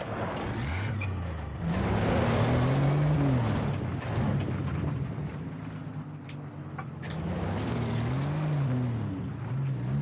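A car engine in the Battlefield 3 video game drones steadily throughout, rising and falling in pitch as the vehicle drives, loud and continuous with no talk over it.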